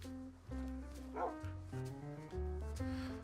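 Game-style dog barks from Minecraft, a few short yips and a whimper set against steady low background music, close and fairly quiet.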